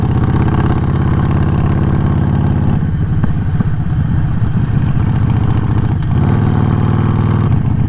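A Harley-Davidson Sportster 48 cruising slowly on the highway, its engine a loud, close, continuous rumble that dips slightly between gear changes.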